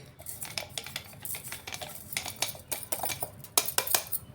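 Sesame seeds and jaggery syrup being stirred together for sesame laddus, a utensil clinking and scraping against the vessel in a steady run of close, fairly loud taps with no talk.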